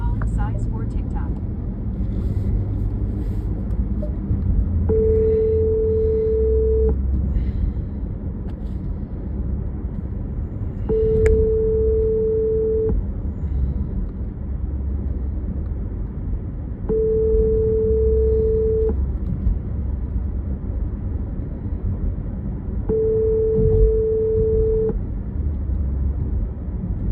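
An outgoing phone call rings back through a phone speaker inside a car. Four evenly spaced ring tones, each about two seconds long, sound over steady road rumble.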